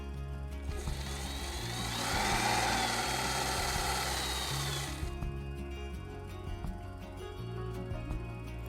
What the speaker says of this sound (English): Sew down the seam, the outside edge, like you see me doing in this video clip.